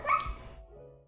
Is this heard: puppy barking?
yes